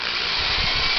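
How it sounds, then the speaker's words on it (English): A handheld power drill drills into the casing of an electric heater, giving a steady, loud, close whirring grind with no pauses or voices. "Let's try this again with the drill bit tightened up a bit more."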